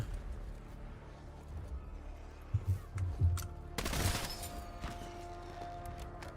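Fireworks ammo mod shots in Black Ops 7 Zombies, with a few sharp cracks and bursts followed by a loud crackling blast over busy game ambience.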